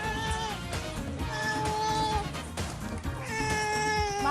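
A cat meows repeatedly in drawn-out, tonal cries, close and fairly clear, with a short pause between calls and no talking.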